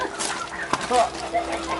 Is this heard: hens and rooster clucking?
yes